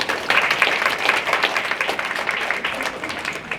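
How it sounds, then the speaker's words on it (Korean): Steady audience applause at a graduation-style ceremony, a dense wash of clapping at moderate level that gradually thins toward the end, with no voice over it. "모두 큰 박수 부탁드립니다."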